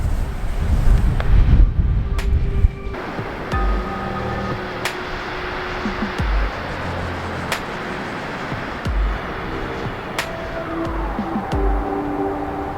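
Wind buffets the microphone on a seaside cliff, with heavy low rumbling gusts at first, then a softer steady rush; faint tonal whistles and clicks sit in the background.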